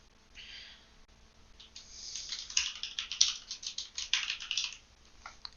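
A computer keyboard is typed on in a quick burst of close, crisp key clicks, with irregular taps building to a rapid patter, then stopping.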